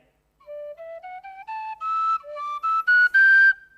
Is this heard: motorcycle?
no